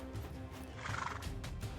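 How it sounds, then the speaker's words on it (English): A horse in the VR fighting game Hellsplit: Arena gives a brief neigh, a short, shrill whinny with a faint clop-like thud, heard close over steady game ambience. "I got to ride on a frickin' horse."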